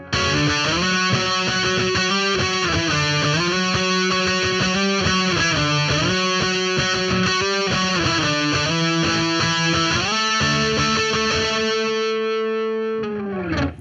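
Distorted electric guitar plays a steady run of octave notes from a song, loud and sustained with effects, ending on a held note that fades out.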